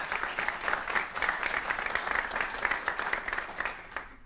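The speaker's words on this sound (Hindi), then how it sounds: "आप चाहें तो तालियों के साथ इस कार्यक्रम की शुरुआत कर सकते हैं।" An audience at an event on exam stress applauds steadily, many hands clapping in a dense, even patter that carries on throughout before easing slightly at the end.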